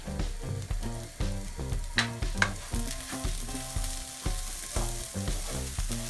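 Pilaf rice with sugar, cinnamon and allspice sizzles in a pan while being stirred, with rhythmic scraping strokes repeating over a steady frying hiss and no speech.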